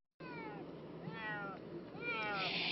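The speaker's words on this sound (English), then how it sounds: "This cat here, owners had reported missing since the start of the storm." Domestic cat rescued from tornado storm damage in Vilonia meows repeatedly, about three rising-falling cries close to the microphone over a steady background rumble.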